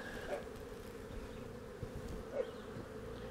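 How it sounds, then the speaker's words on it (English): Honey bees drone in a steady, dense buzz at the entrance of a ten-frame deep brood box, freshly moved up from a five-frame nuc split, with a few soft knocks from hive handling. "Now watch all those bees go in now"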